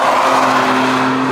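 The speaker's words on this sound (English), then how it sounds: "Oh, there we have the M2." BMW M2 prototype driving past at the Nürburgring, a loud continuous engine drone with a steady low hum, holding strong the whole time with no speech.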